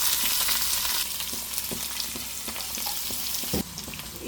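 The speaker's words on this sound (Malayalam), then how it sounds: "കടുക് പൊട്ടി കഴിയുമ്പോഴേ നമുക്കിതിലേക്ക് ഒരു 10ഓളം ചെറിയുള്ളി കൂടെ ഇട്ട് കൊടുക്കാം" Crushed small shallots hit hot oil with popping mustard seeds and chillies for a Kerala-style pumpkin curry, giving a steady close sizzle with scattered pops and stirring clicks; no one speaks.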